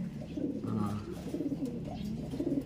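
A racing pigeon coos close by in soft, low, throaty rolling calls, repeated steadily throughout.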